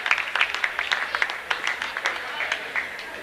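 Applause after an 8th-grade CYO boys basketball championship game, with a crowd clapping steadily in quick, uneven bursts and voices mixed in.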